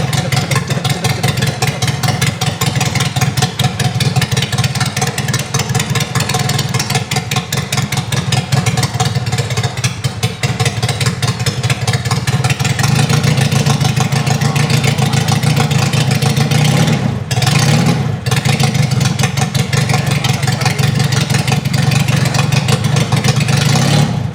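A Regal Raptor Daytona 350 cc motorcycle engine runs steadily and loudly throughout, idling with a rough rumble and revving up at moments, briefly dipping near the end.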